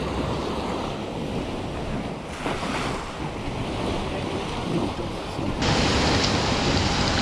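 Ocean surf rolling onto Sairee Beach on Koh Tao, a continuous broad wash of waves with wind buffeting the microphone, swelling louder toward the end, with no voices.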